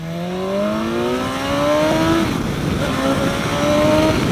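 A 2016 BMW S1000XR motorcycle accelerating hard in first gear, engine pitch climbing steadily in a loud close rising whine, easing briefly then pulling up again, with no talking.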